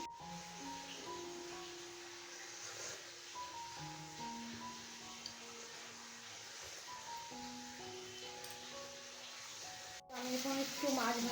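Fish frying in a pan in a home kitchen gives a soft, continuous sizzle, quiet and partly buried under sustained tonal music-like notes, with a louder rustle at the very end.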